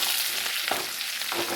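Beef pickle masala frying in a pan with curry leaves, a steady close crackling hiss with a few sharper pops and spatters throughout.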